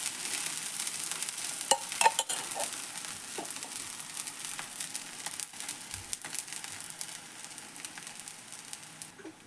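Leftover-rice talipattu frying in oil on a pan gives a steady, moderately loud sizzle with faint crackles and a few soft clicks, alone with no talking.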